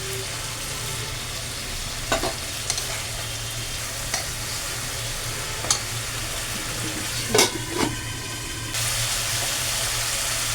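King prawns and green chillies fry in a pan with tomato and raisins, a steady hiss of sizzling oil punctuated by occasional sharp spatters and brief stirring knocks.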